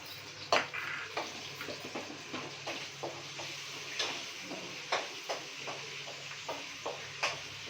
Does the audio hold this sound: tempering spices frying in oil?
yes